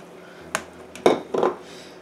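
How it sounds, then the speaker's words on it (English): A metal stock pot is handled in a home kitchen, giving a few sharp clanks and scrapes: one light knock, then two louder metallic bangs close together, near and with no talking. "I'm going to go ahead and get the stock pot ready"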